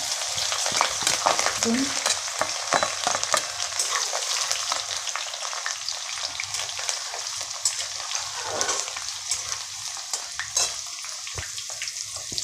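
Chilies sizzle and crackle loudly in hot oil with garlic, a steady frying hiss with scattered pops throughout, close up and with no talking.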